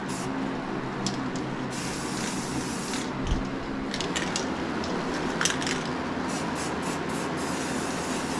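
An aerosol can sprays white primer onto a Glock handgun in a continuous soft hiss, with a few faint clicks and knocks over the nearby spray.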